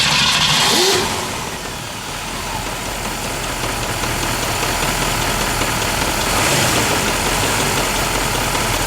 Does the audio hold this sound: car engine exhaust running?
yes